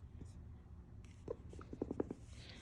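A pen or marker scratches out quick, short strokes while someone works on construction drawing notes, faint and close, with soft breathy murmuring underneath.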